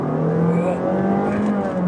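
A fourth-generation Honda Fit e:HEV RS (GR3) hybrid accelerates hard. Its engine holds a steady, close whirring drone whose tone climbs gradually, with no talk over it.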